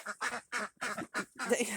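Ducks inside a snowy duck house quack in a rapid burst of five or six loud, close calls with no pauses between them.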